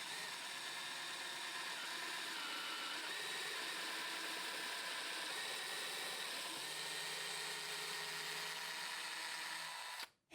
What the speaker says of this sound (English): You want to make sure that you keep your drill bit as perpendicular as you humanly can.